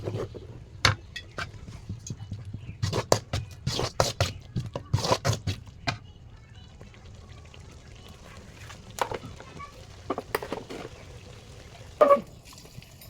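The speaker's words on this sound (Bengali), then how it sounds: "এখানে একটু হালকা জল দিয়ে আর একটু কষাবো" Water is poured into spiced chickpea masala frying in a pan, giving a run of sharp splashing, sizzling bursts that thin into a quieter simmer with scattered spatters and a final clatter.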